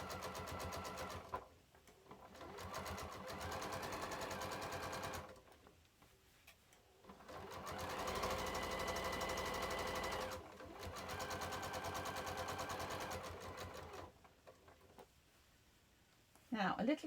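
A sewing machine stitches a quarter-inch seam on a quilted project bag in close, steady bursts of whirring, with several pauses between runs.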